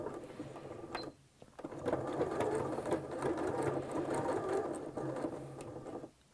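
A sewing machine runs a straight stitch along a napkin, starting after a short pause and whirring steadily for several seconds before stopping, close and fairly quiet.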